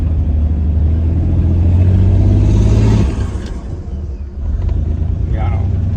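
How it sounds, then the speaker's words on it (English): Rough-running engine of a cheap GMC Syclone truck with a misfire, a loud low rumble and uneven revving that drops off midway and then returns, with people talking over it. "It's definitely misfiring"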